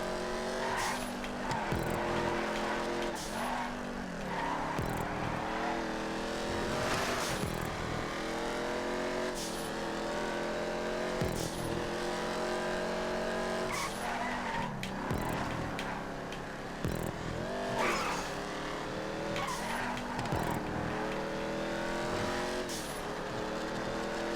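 A race car in GTA 5 drives hard around a track, its engine whining through rising and falling gear shifts, with tire squeals and skids breaking in repeatedly over a long, steady run.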